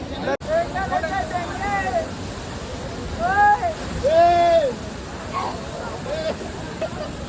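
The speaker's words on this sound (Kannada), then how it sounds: "ಇಲ್ಲಿ ನೀರು ಬೀಳ್ತದಲ್ಲ" A steady rush of falling water from a waterfall at Dharmasthala fills the background while people talk over it.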